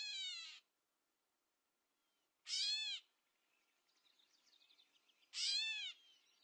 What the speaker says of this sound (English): This is a catbird.